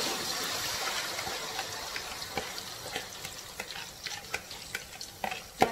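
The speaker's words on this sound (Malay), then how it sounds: "Agak-agak minyak dah panas, terus kita masukkan bumbu yang bumbu kuning tadi." Yellow spice paste (bumbu kuning) with candlenuts sizzles in hot oil for Indonesian-style chicken rica-rica, a steady close crackle broken by scraping stirs that grow more frequent toward the end, with no talking.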